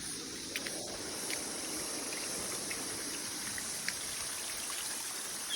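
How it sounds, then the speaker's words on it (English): Running water from a small waterfall tucked in Far North Queensland rainforest, a steady broadband wash with faint droplet ticks, moderately close and alone without talk. "And I've just happened to stumble across another waterfall in here"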